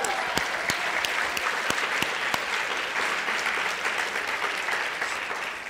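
An audience at a live mindset retreat coaching event breaks into sustained applause, a dense, steady patter of many hands clapping with a few sharper individual claps standing out, fading slightly toward the end.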